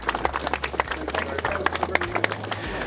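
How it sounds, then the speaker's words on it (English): Scattered outdoor applause from an audience at an Aston Martin gathering at Beaulieu, for the winning DB1, with sharp individual claps over a low steady rumble and some voices mixed in. "ladies and gents, to extend your applause to our winner, the DB1"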